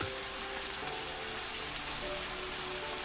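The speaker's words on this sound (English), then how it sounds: "The rain begins to fall again, harder this time, a renewed assault." Heavy rain pours steadily over Tikal at night, a dense, even hiss of drops striking surfaces that holds constant and close throughout, with no voices.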